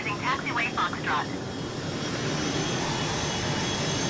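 A Cessna Citation Mustang C510 jet taxis in Microsoft Flight Simulator, its engines giving a steady broadband whine and rumble throughout, with a short burst of radio-style voice near the start.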